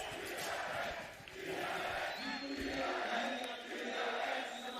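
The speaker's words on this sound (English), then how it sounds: "You can hear the crowd getting behind them now." Arena crowd at a Valorant Champions Tour esports match between DRX and FPX cheering and roaring in sustained waves, distant and fairly faint, with a caster talking over it.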